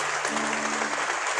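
A church congregation applauds in a brief, steady burst of many hands clapping, with a faint held tone humming underneath.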